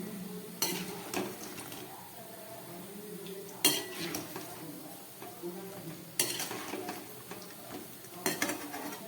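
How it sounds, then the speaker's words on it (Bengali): Palm fruit fritters crackle softly in hot oil while a utensil turns them and scrapes against the pan, with sharp metallic clinks now and then as pieces are lifted out. "এবার আমি তালের বড়াগুলোকে তুলে ফেলছি।"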